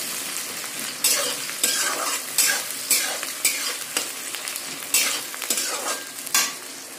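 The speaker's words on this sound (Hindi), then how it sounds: "थोड़े से प्याज फ्राई करना है तो कि हम इसे अच्छे से फ्राई करेंगे" Chopped onions frying in hot oil and being stirred until brown, a steady sizzle broken by repeated scraping strokes of a spoon against the pan, close and clear, with no talking.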